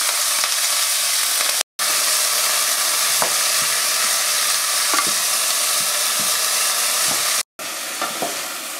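Vegetables for lumpia fry and get stirred in a pan, with a continuous bright sizzle and scattered scraping stir sounds, close and loud, briefly cut by two short gaps.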